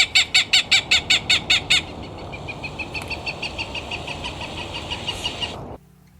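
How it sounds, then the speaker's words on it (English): A Cooper's hawk near its nest gives a fast series of loud, sharp, evenly spaced cackling calls, then a longer, fainter run of rapid notes that stops abruptly, heard over a low rumble of background noise. "There's a Cooper's hawk."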